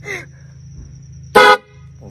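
An air horn rigged inside a backpack as a prank gives one loud, short blast of about a quarter second, close and harsh, after a quieter stretch with a steady low hum.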